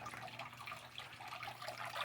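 Water runs and trickles steadily through a large backyard greenhouse system in Denver, a soft continuous dribble with faint drips, fairly quiet and unbroken, with no voices.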